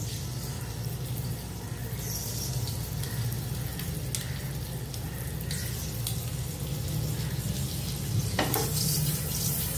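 Eggs fry in butter in a pan with a loud, continuous, close-up sizzle that holds steady throughout, with a few faint clicks of a utensil against the pan.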